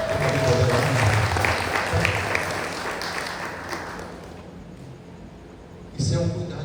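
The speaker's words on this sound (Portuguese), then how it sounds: "Você pode aplaudir o Senhor?" A church congregation applauds in a dense, steady wash of clapping and murmuring voices that thins out after about four seconds, with a brief fresh burst near the end.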